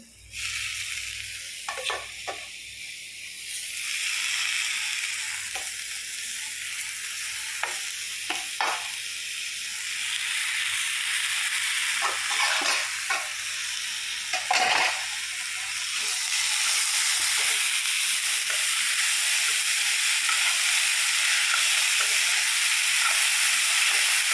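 Chopped pointed gourd fries in masala in a pan, a continuous sizzle broken by repeated scraping stirs of a spoon, growing into a louder steady hiss in the last third.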